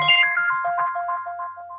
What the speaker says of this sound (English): Yep, that's my phone.